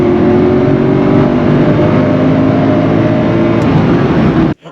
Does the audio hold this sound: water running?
no